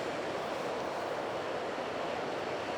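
Ocean surf on the Australian coast rushes in a steady, broadband wash with wind noise mixed in, faint and continuous with no clear individual wave crashes.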